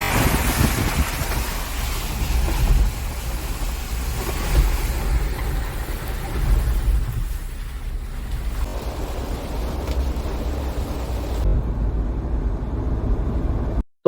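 Suzuki Jimny cruising on a highway, with a steady, loud low rumble of engine and road noise mixed with wind buffeting throughout, continuous and unbroken until it cuts out near the end.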